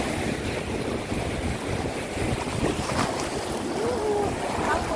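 Ocean waves at Tub Afu beach roll in a continuous broadband wash, mixed with heavy wind buffeting the microphone. The surf is steady and loud and no one speaks.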